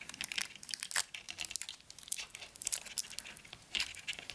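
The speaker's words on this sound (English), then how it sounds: "I'm just going to cover that with a little bit of tape just on the edge." Tape being pulled and wrapped around the edge of a flower crown frame, giving close crinkling, tearing and rustling in busy, irregular bursts with no talking.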